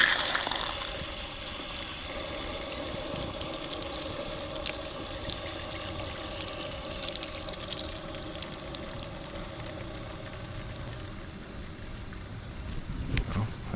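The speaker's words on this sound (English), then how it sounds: "I still hear water flowing." A steady low rush of water flows through irrigation pipes, continuous and moderately quiet, with faint knocks and handling noises at the start and end.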